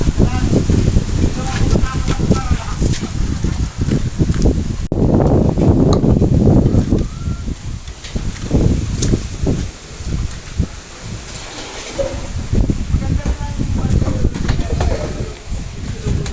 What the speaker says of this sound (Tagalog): Lakas na ng bagyo.